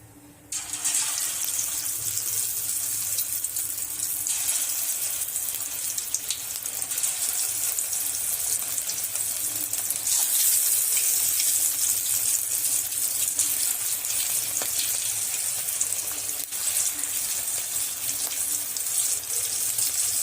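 Cauliflower pakoda frying in hot oil gives a steady, bright sizzling hiss that carries on without a break, with no voices over it.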